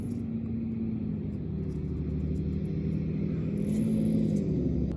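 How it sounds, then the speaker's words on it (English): A heavy vehicle rumbles steadily past, a loud low drone that swells slightly toward the end. "That was a pretty loud truck that went by."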